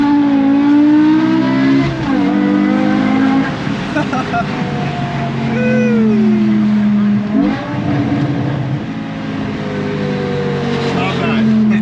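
A 2008 BMW M5 E60 driven on a road in its hardest SMG shift mode: loud, close engine note climbing steadily in pitch, broken by two abrupt drops as the gearbox shifts, then rising again.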